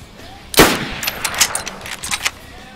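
Rifle gunshots in the video game DayZ: one loud, sharp crack followed by a scatter of quieter, distant shots and rattles over the next two seconds.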